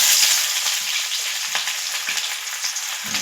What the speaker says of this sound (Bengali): এই যে গরম হয়ে গেছে তেলটা, এবার আমি কুচানো পেঁয়াজটা দিয়ে দিলাম।